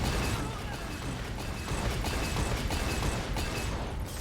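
Cannon fire from the Legends of Runeterra card game, a dense, continuous barrage of booming blasts and bursts that fills the whole stretch loudly with no pauses.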